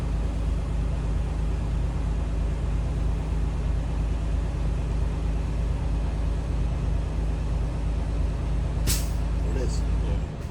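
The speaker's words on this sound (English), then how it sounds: "It's going to sound like the truck is sneezing." Steady, loud rumble of an idling semi-truck engine, broken near the end by a sharp hissing burst of air released from the air brakes.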